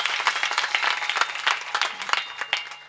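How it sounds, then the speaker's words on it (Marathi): A crowd at a village kirtan gathering claps loudly, with sharp individual hand claps standing out over a continuous bed of applause across a few seconds, and no one talking over it. "जोरदार टाळी वाजवा एकदा"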